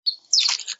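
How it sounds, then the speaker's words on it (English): Bird chirps in quick succession: a thin high tweet, then a busier burst of overlapping chirps, fairly close and moderately loud. "do you hear the birds?"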